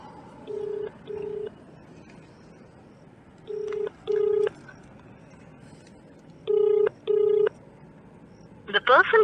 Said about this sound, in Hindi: उनको फ़ोन किया जा रहा है